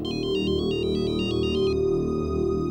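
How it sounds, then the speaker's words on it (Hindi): A telephone ringtone trills in a repeating electronic pattern for over a second, then stops, over a steady low background hum. "शिवा को फोन लगाओ"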